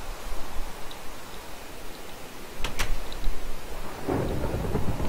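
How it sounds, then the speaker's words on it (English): Thunder rolls through a lightning storm in a video game, with a sharp crackling strike near the middle followed by a loud, heavy rumble that swells toward the end over a steady rain-like hiss. "Ooh, lightning!"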